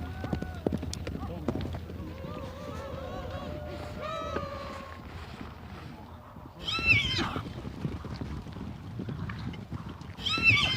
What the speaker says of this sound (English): life and death depend on mastery of one animal, the horse